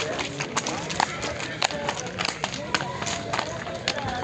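Horses at a livestock market near Bishkek, their hooves clip-clopping in repeated bursts, with a few louder sharp knocks, amid constant crowd chatter and people talking nearby.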